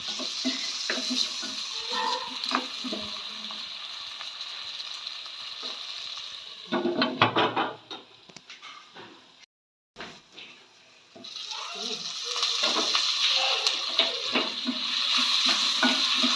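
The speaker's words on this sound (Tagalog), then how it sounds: "Gisa-gisa muna natin ng 1 minute." Pork and tomato sautéing in a pan, a loud steady sizzle with stirring scrapes, dropping away briefly midway before the frying hiss returns strong and continuous.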